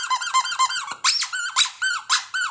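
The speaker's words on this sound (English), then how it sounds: "Hear that squeak? As far as they're concerned, there's a mouse in there." Squeaky plush lamb puppy chew toy squeezed over and over, a quick run of sharp, high, close squeaks in an uneven rhythm with a short gap partway through, with no talking.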